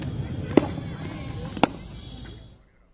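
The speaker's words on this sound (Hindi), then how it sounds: "कहीं पर तिरंगा लहराया जा रहा है तो कहीं पर आतिशबाजी हो रही है, पटाखे छोड़े जा रहे हैं" Firecrackers bang at a street celebration at a crossroads in Jamui, Bihar, after a young cricketer's century. Two sharp, loud bursts come about a second apart over a steady murmur of crowd noise.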